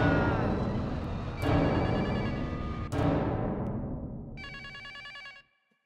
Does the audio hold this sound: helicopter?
no